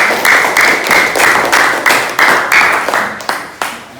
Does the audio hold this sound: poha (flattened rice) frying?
no